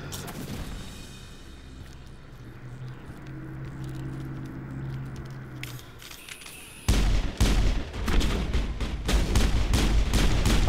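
Gunshots in the Mass Effect video game, a sudden loud flurry of rapid shots erupting after a quieter stretch of ambient rumble and then continuing in dense bursts.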